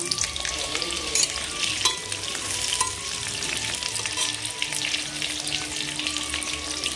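Freshly cut potatoes fry in hot oil in a wok, a loud, continuous sizzle with steady crackle and occasional stirring scrapes throughout.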